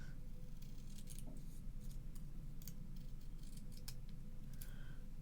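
Scissors trim the edge of card for an Easter peek-a-boo greeting card, giving a few faint, crisp snips and rustles close by in an otherwise quiet room.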